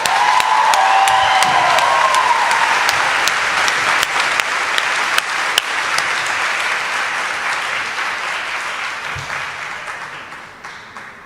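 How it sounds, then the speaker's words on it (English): A graduation ceremony audience claps in a dense, loud round of applause that holds steady and then slowly fades over about ten seconds, with a brief faint voice near the start. "How about one more round of applause?"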